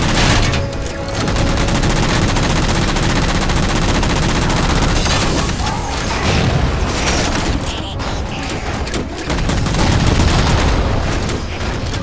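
Cannon and gunfire shoot continuously in the Halo 4 video game, a loud, dense barrage of rapid automatic bursts and heavy booms that fills the whole stretch, with voices faintly mixed in.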